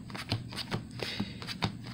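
A deck of trading cards for a Thunder Dragon combo being shuffled by hand: close, soft papery riffles and slaps repeating roughly every half second, each a brief burst over a light continuous rustle, with no talking.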